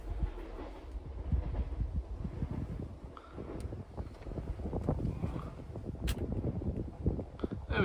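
A low, rumbling roar of a train rolls past, mixed with buffeting wind noise on the microphone, fairly faint and continuous.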